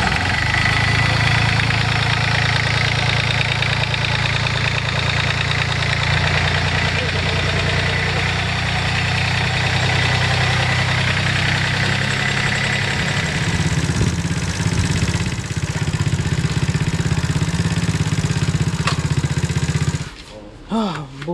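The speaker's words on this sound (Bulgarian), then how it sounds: "Прекрасен мотор. Чудесен мотор." A motorcycle idles steadily and loudly nearby on a trip through Cambodia, its low engine drone continuous for about twenty seconds before cutting off abruptly.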